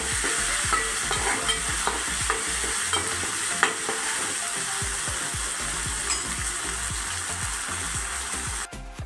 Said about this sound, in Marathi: आता मी आलं लसूण पेस्ट घातले। आता एकदा व्यवस्थित मिक्स करून घ्यायचं।